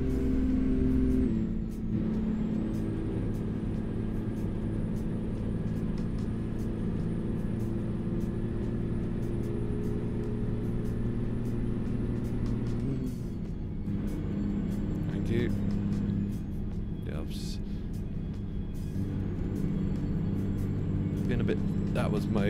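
Heavy diesel engine of a Peterbilt 350 truck in American Truck Simulator, a steady loud low drone that drops briefly as a gear is changed mid-way, with faint clicks and air-brake hiss on top.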